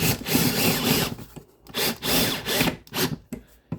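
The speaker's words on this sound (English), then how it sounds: "I'm going to go ahead and put those into the drywall anchors." Power driver sinking two 1.5-inch screws through a metal shelf bracket into drywall anchors, close up in a series of short whirring bursts separated by brief pauses.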